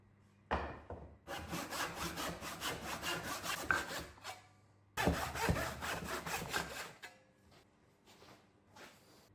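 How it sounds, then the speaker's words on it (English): A crosscut hand saw cuts oak pieces held on a bench hook, with two bursts of rhythmic back-and-forth rasping strokes separated by a brief pause, close and clear, followed by a few lighter scraping strokes. "I'm cutting them with a crosscut saw using a bench hook"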